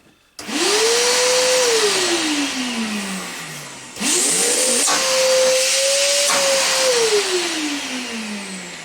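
A Lidl Parkside PNTS 1400 wet and dry vacuum cleaner runs in two bursts. Each time its motor whines up to speed with a steady airy hiss, then slowly winds down. The first burst stops briefly before it starts up again.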